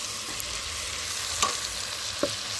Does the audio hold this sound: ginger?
yes